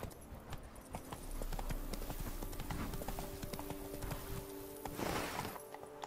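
Roach the horse galloping in The Witcher 3 game, a brisk rhythmic clip-clop of hooves at close range with a short crunching burst near the end.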